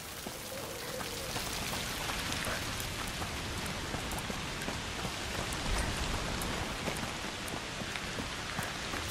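Steady rain pours down in the video game A Plague Tale: Requiem, a dense, even hiss of drops hitting surfaces that holds constant and fairly close, with no voices.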